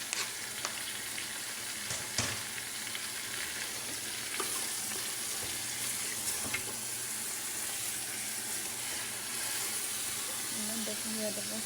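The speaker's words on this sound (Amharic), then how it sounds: "ከላይ ሽንኩርቱን እጨምራለሁ።" Chopped onions for Arabic-style rice bukhari frying in a pan, a steady broad sizzle with hiss running throughout, a few sharp clicks of a utensil against the pan, no talk.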